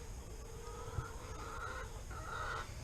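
Cornish Cross meat chickens make soft, drawn-out clucks and murmurs, faint against a low background hum.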